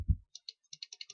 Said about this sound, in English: if you hear my mouse in the background, my keyboard